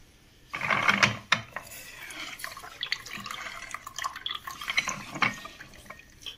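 A Celio juicer extracts juice from apple, mosambi and orange, giving close mechanical grinding and rattling with irregular clicks and wet drips, loudest in an opening burst and then continuing more unevenly.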